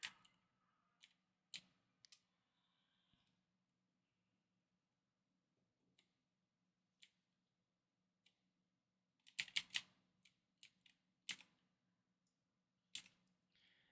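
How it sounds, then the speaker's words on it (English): Computer keyboard typing at a desktop setup, a few isolated key clicks early on, then a quick burst of rapid keystrokes, with scattered taps continuing over a low steady electrical hum in an otherwise quiet room. "those keyboard sounds, they're in there bad"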